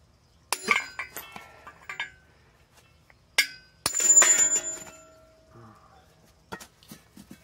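Sharp metallic clinks and ringing strikes come from hammering a part to free it from a steering knuckle, as scattered single hits and a short ringing burst separated by quiet gaps.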